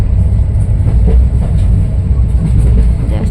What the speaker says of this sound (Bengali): মরিয়ানি থেকে আমরা ট্রেন ছাড়লো এখন।